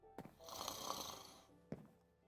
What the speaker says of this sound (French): Hop, allez, on ronfle.